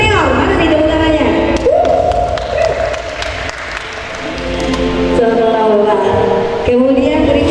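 Audience applause at a talk show on Malang goat soto during a food festival, a steady wash of clapping filling the whole moment, with a voice speaking over it near the start and again toward the end.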